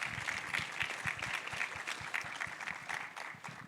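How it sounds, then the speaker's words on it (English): Audience at a community forum on youth trades and finance clapping, a fairly quiet, brief patter of hands from a small group with distinct individual claps audible. "Clap for that, please."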